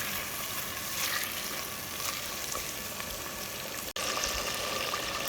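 Oil bubbles and sizzles steadily in a clay pot over a village cooking fire, with okra and spices frying in it, a close, even crackling hiss broken once by a split-second dropout.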